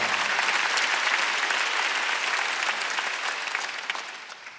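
Church congregation clapping during a Wednesday worship service, a thick, continuous burst of applause that holds strong before thinning and tapering toward the end.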